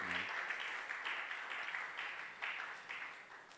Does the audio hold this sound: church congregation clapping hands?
yes